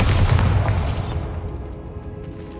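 In the video game Hogwarts Legacy, a Bombarda spell goes off as a loud, deep boom with a sharp burst at the start, then a rumbling tail that fades over about two seconds.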